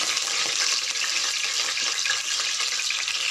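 Curry leaves hit hot oil in a pan, giving a dense, steady crackling sizzle that is loud and close and holds for the full few seconds with no voices.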